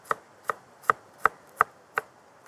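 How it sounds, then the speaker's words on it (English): A knife chops fresh dill and parsley on a board outdoors, six crisp evenly spaced knocks about every third of a second, close and clear with a quiet background and no speech. "some beautiful fresh herbs, parsley, sprig of parsley, and some dill, of course. I love dill with crayfish, so we'll just chop that"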